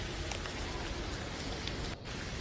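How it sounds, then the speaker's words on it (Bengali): A heavy-rain sound effect: an even, hissing downpour of drops on surfaces, steady and moderately quiet, with a brief dip just before the end. "পরদিন হঠাৎ ভীষণ বৃষ্টি শুরু হলো।"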